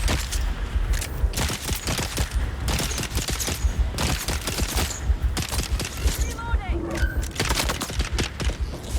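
Rapid bursts of gunfire in the video game Dune Awakening, with sharp shots fired in quick volleys, some in clusters and others alone, with a steady background bed underneath.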